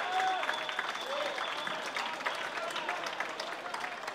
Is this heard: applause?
yes